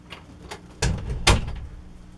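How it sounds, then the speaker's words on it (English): An indoor room door is pushed shut with a couple of light knocks, then a firm thud and a louder latching clunk, close and alone. "Let me close my door real quick."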